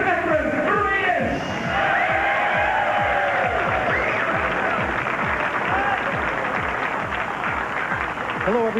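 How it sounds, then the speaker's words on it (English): A crowd applauds and cheers for pool player Efren Reyes at a 2003 billiards challenge match, steady loud clapping filling the room while an announcer's amplified voice talks over it. "how about a round of applause again, Mr. Efren Reyes?"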